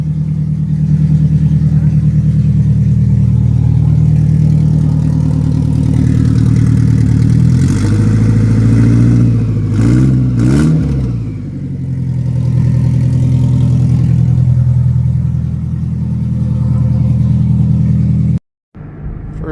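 A 1997 Toyota Camry engine, revived after ten years sitting with old gas, idles with a steady low rumble close by, rising briefly around the middle before settling back, with the sound ending abruptly near the close.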